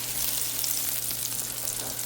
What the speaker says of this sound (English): Okay, so the onions are frying away.